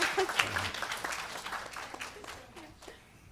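Guests at a gurukula birthday celebration applaud a singer, a short burst of clapping that begins fairly strong and gradually fades away, with scattered voices mixed in.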